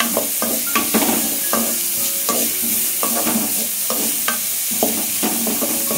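Vegetables with cabbage are stir-fried for chicken fried rice, with a constant sizzle under repeated scraping and tossing strokes of a spatula in the pan, close and rhythmic.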